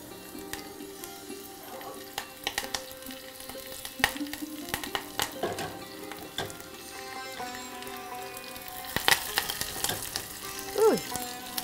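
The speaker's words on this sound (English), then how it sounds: "To that, I'm going to be adding 2 red chilies, breaking them apart, and few curry leaves." Red chilies and curry leaves frying in a pan, a steady close sizzle with crackles and occasional stirring clinks, no voices.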